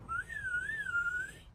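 A person whistles one sustained, wavering tone in a forest at night, a single clear whistle lasting just over a second over quiet background noise.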